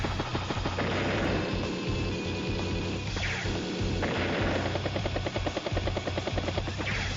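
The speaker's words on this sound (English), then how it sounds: "Battlecopter strikes tank there" Battlecopter striking a tank in Advance Wars: Days of Ruin, a steady whirring rotor drone with a burst of crashing, gunfire-like hits partway through, continuous and loud throughout with no talking.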